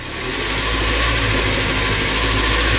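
Car engine held revved with a fake spark plug fitted: a loud, steady close-up drone that surges and wavers unevenly, with misfire roughness running throughout.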